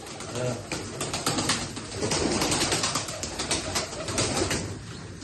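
Several mature pigeons, three to four years old, coo and stir nearby in a busy, continuous chorus, with occasional soft wing flutters and people talking over them.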